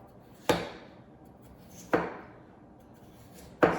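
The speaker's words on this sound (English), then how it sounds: "I peeled all my potatoes, and now I just want to chop them" Three sharp knife chops through potatoes on a cutting board, spaced slowly and evenly, each a crisp thunk standing out over quiet background.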